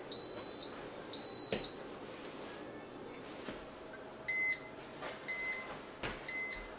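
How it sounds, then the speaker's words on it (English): Two Instant Pot pressure cooker timers go off together in a home kitchen after pressure cooking a pie pumpkin, sounding as several short, high electronic beep bursts in quick groups over a quiet room background. "All right, both timers are going off."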